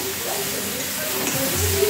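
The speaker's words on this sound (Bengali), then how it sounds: "মাখা মাখা করে ভাজা ভাজা করব।" Boiled taro stolons (loti) frying in a pan, a steady close sizzle with soft stirring scrapes running through the whole stretch.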